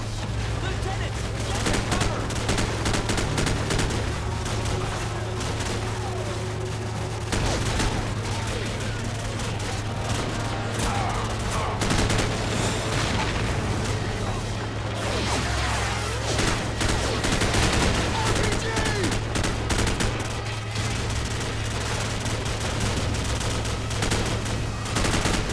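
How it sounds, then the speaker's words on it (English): Dense, continuous bursts of rapid gunfire and explosions in the video game Call of Duty 4: Modern Warfare, loud and relentless, with a steady low hum underneath. "You're running out into gunfire."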